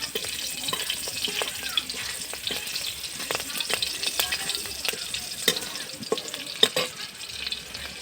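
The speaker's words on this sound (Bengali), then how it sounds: "আমার তেলটা তো তেঁতেই আছে আমি এর মধ্যে কয়েকটা কাঁচা লঙ্কা" Green chillies dropped into hot oil for a doi begun dish, giving a steady close sizzle with frequent spatula clicks and scrapes running throughout, no voices.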